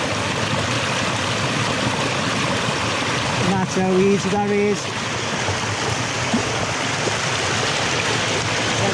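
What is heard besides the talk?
running water of a river stream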